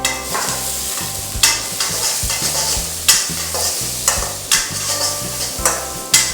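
Two medium finely chopped onions fry in a pan for vegetable spring roll filling, a steady close sizzle broken by repeated scraping stirs of a spatula at a loose, regular pace, with no talking.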